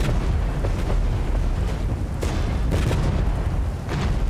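Artillery and tank fire in the war strategy game Regiments, a dense continuous barrage of booms and blasts with sharp cracks layered over a heavy rumbling bed, loud throughout with no speech.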